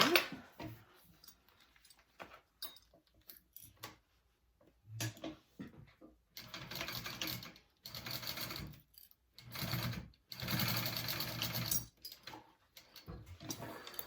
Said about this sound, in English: you're going to baste that all down